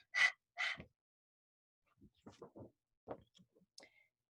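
A voice imitates a panting dog with two sharp breathy huffs, then goes quiet before some softer vocal sounds follow.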